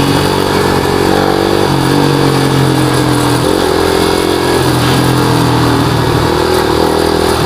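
A Yamaha Sniper 150 motorcycle fitted with an Akrapovic 51mm exhaust revs loudly up close, its engine note rising and falling in several repeated throttle blips over a steady, raspy idle.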